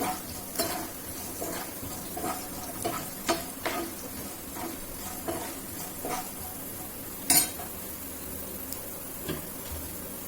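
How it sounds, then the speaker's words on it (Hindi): Peanuts roasting in ghee in a pan over a high gas flame, with a steady background sizzle broken by scattered clinks and scrapes of a spoon stirring against metal. No one speaks. "अभी ये तेज आंच पे मूंगफली रोस्ट हो रही है घी में"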